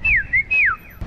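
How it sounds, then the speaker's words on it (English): A person whistles three short sliding notes, each dropping in pitch, loud and close, with a brief gap between them and nothing else heard. "We can just whistle now."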